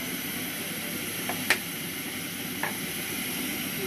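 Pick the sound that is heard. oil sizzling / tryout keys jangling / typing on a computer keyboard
oil sizzling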